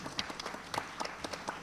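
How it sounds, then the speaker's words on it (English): A sparse round of applause for the teams at a national financial literacy quiz, with a few individual hand claps standing out in an uneven, fairly quiet patter. "Round of applause for all the teams."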